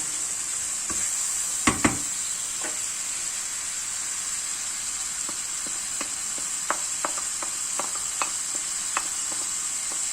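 A utensil stirs parsley into a tomato moussaka filling sizzling in a pan, with a steady bright frying hiss throughout and a scatter of sharp scraping clicks, two louder knocks early on, no talk.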